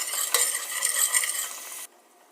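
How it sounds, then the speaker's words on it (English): Lentil and pea curry stirred in a pot, a close scraping, bubbling stir with a faint sizzle that cuts off abruptly near the end, no talking. "so now you want to stir it around and stir it around."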